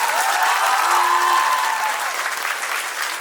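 Loud, sustained audience applause fills a celebration of NEET 2023 results at IMA Jodhpur, a dense even roar of many hands clapping with a faint voice briefly audible within it.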